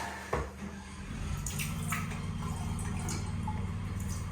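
Water is poured into a container for mixing grout, a steady close gurgling stream with low bubbling tone after a brief knock at the start.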